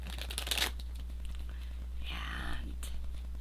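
Cards riffle and shuffle close by in quick bursts, followed by a softer papery rustle over a low steady hum.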